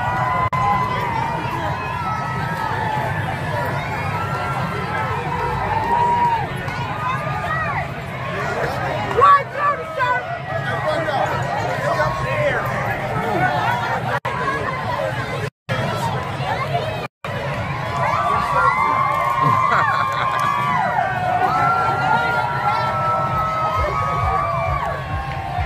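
A dense crowd packs the Las Vegas Strip for the Las Vegas Aces championship parade, with steady loud babble, shouting and bursts of cheering all around. Nearby voices talk throughout, with two brief dropouts midway.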